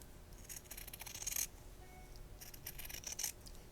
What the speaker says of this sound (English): I will cut it in a way that I just leave maybe 1/4 inch of material on next to my dart seam